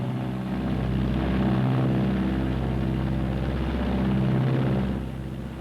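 Twin engines of a Martin B-26 bomber drone steadily in flight, a loud, continuous propeller hum that swells slightly and then eases toward the end.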